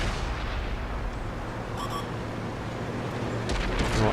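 A tank cannon firing in World of Tanks on console, a loud booming report with sustained rumble and a sharp crack near the end, heavy and close with no voices.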